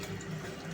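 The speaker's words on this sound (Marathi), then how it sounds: "तर आपण ह्याच्यात अजून अर्धा ग्लास पाणी टाकायचं आहे." Half a glass of water poured into a simmering curry gravy of black beans, a short steady liquid pour, close and soft.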